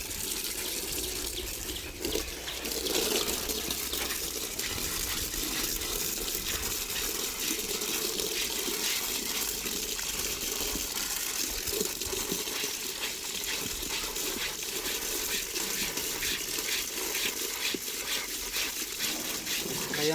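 Running water gushes and splashes steadily while an elephant is washed, with a continuous rushing flow and occasional splatters throughout, and faint voices in the background.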